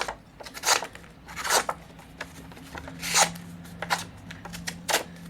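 An EK&T Companion neck knife slicing through cardboard, a series of short, crisp rasping cuts repeating irregularly at close range.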